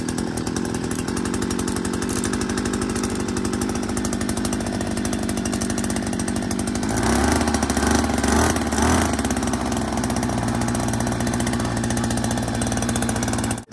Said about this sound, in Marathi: तर इंजिन आता आपलं चालू झालंय अशा प्रकारे बघा आवाज बघू शकता किती मोठा आहे तो